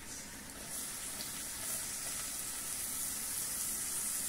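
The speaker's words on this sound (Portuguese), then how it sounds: "Eu coloquei o alho para refogar aqui. Agora eu venho com a cebola." Garlic and onion sautéing in a pan, giving a soft, steady, fairly faint sizzle and hiss with no talking.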